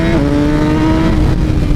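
A liter bike engine droning loud and close while riding on a track, holding a steady tone with a small dip in pitch.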